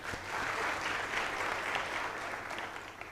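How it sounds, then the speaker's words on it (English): An audience applauds contestants at a pageant-style finale with steady, evenly dense clapping that holds at a moderate, somewhat distant level for a few seconds. "So I need you all to please give them a round of applause."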